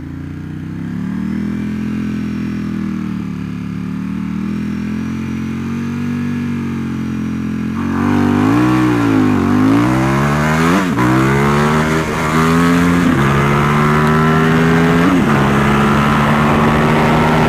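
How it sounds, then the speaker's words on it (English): Triumph Rocket 3 motorcycle doing a drag start with the clutch slipped out: a steady idle, then a loud launch with the engine note rising sharply and climbing through several quick upshifts, each drop and rise clearly audible. "I'll try this time with just slipping the clutch out, doing my regular drag start."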